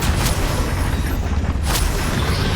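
A Confringo blasting spell explodes in the Hogwarts Legacy game, heard as a loud, dense rumble of booms through a duel, with two sharp bursts about a second and a half apart.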